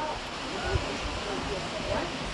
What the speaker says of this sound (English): At the beautiful Hotel Sangay with our waterfall back here